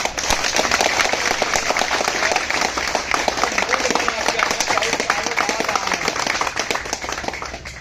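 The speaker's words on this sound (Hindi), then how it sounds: "आप लोगों की शानदार तालियां जो मिलती हैं मुझे ना, इतनी हल्की ताली" Protest crowd at a sit-in over a selection commission giving applause, a continuous patter of many hands clapping, moderately loud and sustained, with some voices mixed in.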